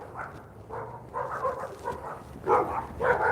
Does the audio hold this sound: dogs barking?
yes